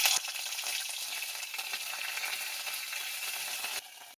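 Panch phoron spices and ginger paste sizzling in hot oil in a heated kadai, a steady broadband crackle held close and loud for about four seconds before cutting off abruptly, with no voices.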